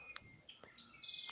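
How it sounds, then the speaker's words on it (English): Birds chirp faintly around a house construction site in Iloilo, Philippines, with a few scattered high tweets and thin whistled notes drifting over a quiet background, distant and sparse. "there's just some birds chirping"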